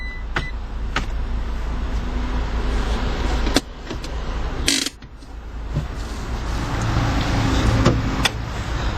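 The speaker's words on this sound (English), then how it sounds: "the driver's side window is automatic" The automatic driver's-side power window of a 2012 Fiat 500C Lounge gives a brief motor whir with mechanical clicks over a steady background hum inside the car.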